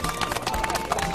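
Brief burst of audience applause at a gathering in Jecheon, quick dense clapping from a crowd mixed with voices and chatter.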